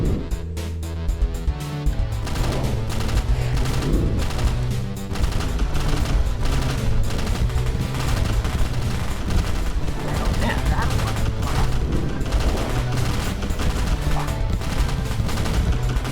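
Blind-fire gunfire in the video game MF-01 Aerostrike: dense, sustained rapid shots hammering almost without a break for the whole stretch, loud and layered over a busy in-game background.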